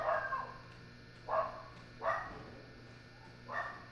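Four muffled dog barks in Resident Evil 7, spaced irregularly over a few seconds and heard at moderate distance over a low steady hum, with no talk.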